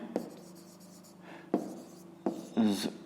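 Pen scratching out a maths solution on paper, with a few short bursts of strokes separated by pauses, close and fairly quiet.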